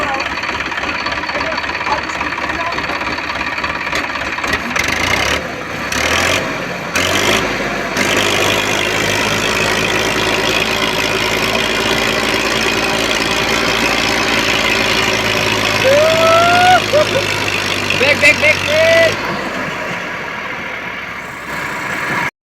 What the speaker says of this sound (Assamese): ট্ৰেক্টৰ ষ্টাৰ্ট কৰি